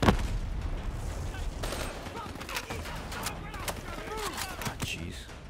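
Gunfire in Call of Duty Black Ops 3 comes in rapid bursts and volleys aimed at the player, sharp and fairly close, mixed with game effects while someone talks over it.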